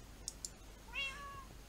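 An ocelot in the Minecraft video game gives a single drawn-out meow, clear and fairly close, preceded by a couple of quick clicks, with no talking.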